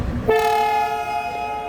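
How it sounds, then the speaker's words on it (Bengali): An electric Darjeeling toy train approaching, its loud sustained horn blast ringing out close by over a low rumble of the moving train. "এই যে টয় ট্রেনটা আসছে এটা ইলেকট্রিক টয় ট্রেন।"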